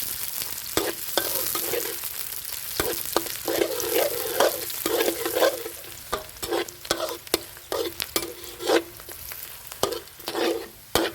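Around 50 grams of shallots fry in hot oil in a pan for old-style red noodles, crackling with a steady sizzle. A spatula scrapes and taps the pan at a repeated rhythm.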